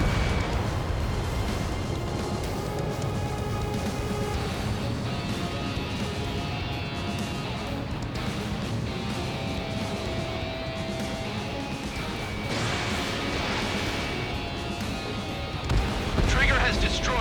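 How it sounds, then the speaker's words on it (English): Missile launch and explosions in the Ace Combat 7 jet combat game, heavy rumbling blasts and a sustained roar layered with game radio voices and background music throughout. "launching missile"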